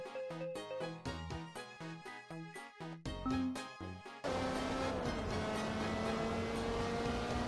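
Opposing race car engines roar in Forza Motorsport 2, starting after a choppy, rhythmic stretch and then turning into a loud, steady, close drone with a rising and falling engine pitch.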